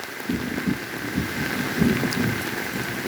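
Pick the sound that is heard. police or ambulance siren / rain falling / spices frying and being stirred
rain falling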